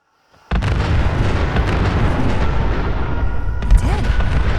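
In Fallout 4, gunners open fire on decoy mannequins in a continuous, loud barrage of booming gunfire and blasts that starts abruptly and carries on without a break.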